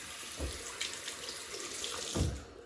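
Water runs from a bathroom tap while a razor is rinsed during a shave, a steady soft stream with a couple of low splashes and clatters, nobody speaking.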